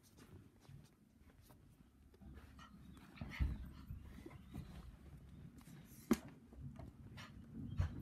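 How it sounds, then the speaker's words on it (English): A dog pants and snuffles close by, with soft whimpers and a couple of sharp thumps, no barking. "He barks at anyone walking past the house."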